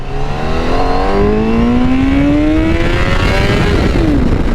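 A 2021 Honda CBR1000RR-R Fireblade SP superbike pulls hard in first gear, its engine note rising steadily in a loud, continuous howl with layered harmonics, then dropping briefly near the end as the revs fall.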